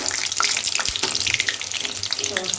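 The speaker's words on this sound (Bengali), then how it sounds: "হ্যাঁ বড়াটা এখানে ভাজছি" Capsicum fritters (shimla mirch bora) deep-fry in hot oil with a loud, steady, close crackling and bubbling sizzle and scattered sharp pops.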